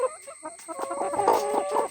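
A hen clucks in short, soft bursts close by, with a steady high-pitched tone running underneath; the hen is drooping and sick.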